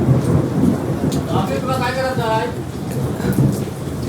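Heavy rain roars with a deep rumble of thunder underneath, and a voice briefly speaks midway through the storm noise.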